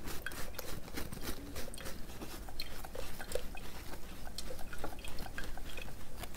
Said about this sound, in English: you want to stir this just a little bit slowly, and this will help the milk from going through